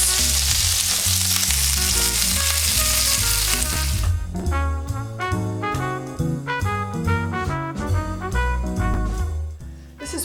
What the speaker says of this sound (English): We are going to brown these on all sides.